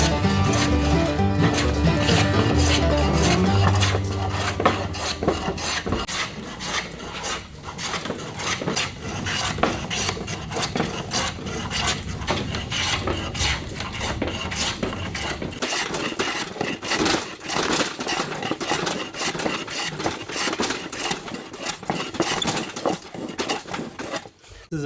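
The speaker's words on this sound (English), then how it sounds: "Here I should be planing from this side, and here I should be planing from this side." Hand plane shaving wood during a sailboat refit, with repeated rasping strokes in a steady rhythm, close and fairly loud, with a low tonal hum over the first few seconds.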